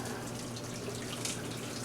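Hot water pours steadily into a container while pasta is being cooked, making a soft, continuous trickling splash heard faintly and close up with no voices.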